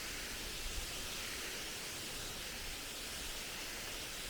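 Waterfall at Powerscourt in County Wicklow, heard as a steady, faint, even rush of falling water with no other sounds.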